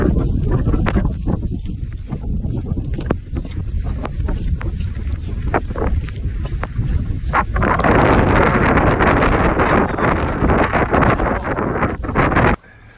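Strong wind at Mammoth Mountain in early morning, a loud, continuous roar buffeting the microphone and swelling stronger partway through before cutting off abruptly.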